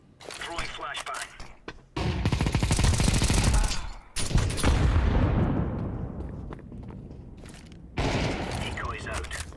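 Rapid bursts of video game gunfire, loud fusillades and automatic fire in several blasts separated by short gaps, with a player talking over the shooting.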